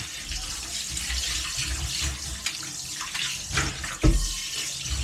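Dishes are washed under a running kitchen tap, a continuous rush of water with clinks and splashes shifting in tone as items pass under the stream.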